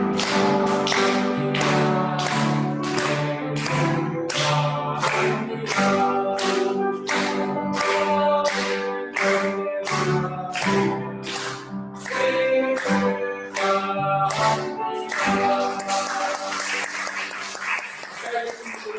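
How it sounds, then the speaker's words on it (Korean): A church congregation at a Sunday service claps in a firm, regular beat while a single voice sings a birthday song. The claps stay evenly spaced and close throughout. "저만 노래할 테니까 여러분들은 박수만 해주시기"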